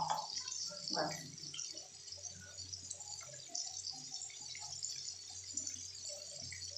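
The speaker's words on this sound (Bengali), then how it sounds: "এটাকে আমি একটু জল দিয়ে ধুয়ে রাখবো" Quiet running water splashes in a kitchen as food is rinsed while cooking potol paneer, a soft continuous trickle and hiss with a few faint drips.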